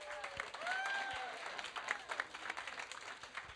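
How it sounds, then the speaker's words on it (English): Faint, continuous applause from an awards ceremony audience, with scattered claps and a few voices or whistles over a distant crowd wash. "Can we get a thunderous round of applause?"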